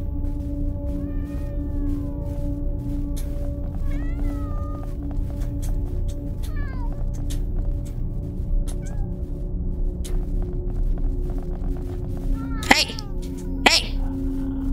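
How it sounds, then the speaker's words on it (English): Several cats meow and caterwaul in a yard, with drawn-out yowls scattered through the stretch over a steady low hum, and two sharp, louder cries near the end. "Look at all you cats!"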